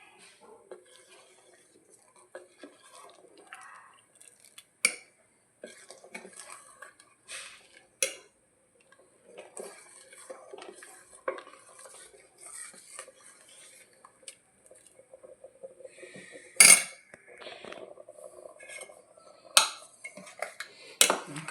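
A spoon stirs semiya payasam in a metal pot, scattered scraping clinks and a few sharper knocks against the rim over about twenty seconds, close and fairly quiet with no talking.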